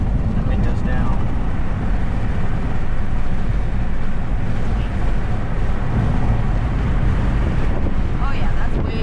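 Wind rushes loudly through the open windows of a Land Rover Defender driven at around 60, a constant buffeting roar that fills the cabin, with people talking under it.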